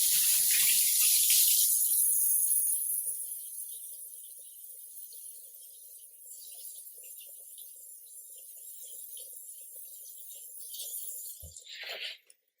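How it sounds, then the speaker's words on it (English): Water runs from a kitchen tap while hands are washed during home dinner preparation with potatoes, a loud initial gush easing to a steady, softer stream for several seconds before it is shut off with a brief clunk. "And wash my hands."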